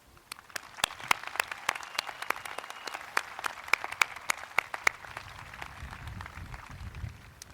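A graduation audience at a 2012 high school ceremony applauds teachers: sparse, distinct hand claps ring out in a large hall, thinning toward the end.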